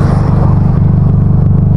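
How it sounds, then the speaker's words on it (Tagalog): Loud, close rumble from the exhaust of a Nissan Sentra, a deep pulsing drone held steady with no talking over it. "Kaya kung marinig nyo mga kabiyahe ay maingay yung tunog ng tambucho natin"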